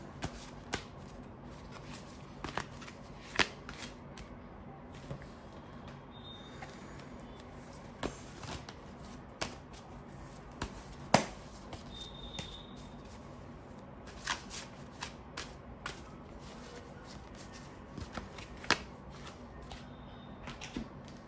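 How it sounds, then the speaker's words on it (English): Crisp riffling and soft slaps of a card deck being shuffled, repeated bursts over a quiet room background with no talking. "So I'm very careful while shuffling the deck."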